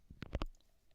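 A computer mouse clicks Attach File: a few faint, quick clicks bunched together near the start, followed by quiet room tone.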